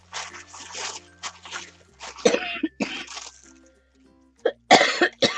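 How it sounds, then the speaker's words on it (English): A woman coughs in several sharp, close bursts after choking on air, with rustling tissue paper and quiet pauses between the coughs. "Choked on air for a second."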